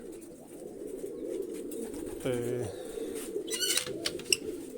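Pigeons coo near a loft, with one clear throaty coo midway and softer bird calls over steady background noise.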